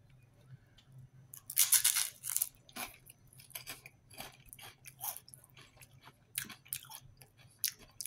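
Fresh crackers are being chewed up close, with irregular crisp crunches and crackles that come in bursts and then taper off, alone in a quiet room.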